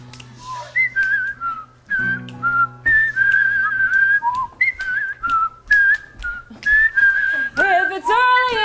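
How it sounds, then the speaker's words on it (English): Someone whistles a lively melody in short phrases over soft, steady instrumental backing, clear and close. "Let's whistle our way there."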